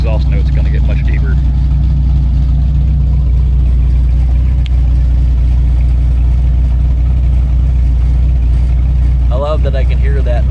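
A supercharged car engine with EFI idles with a deep, steady rumble throughout, loud and close, while brief bursts of talk come through near the start and end.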